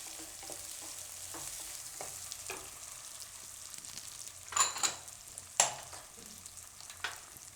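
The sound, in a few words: peas frying and being stirred in oil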